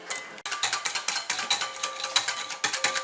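Aioli sauce is beaten by hand in a bowl, the whisk clicking against the sides in a fast steady rhythm of sharp metallic taps, close and clear with no talking.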